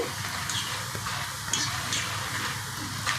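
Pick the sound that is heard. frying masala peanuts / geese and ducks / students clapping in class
frying masala peanuts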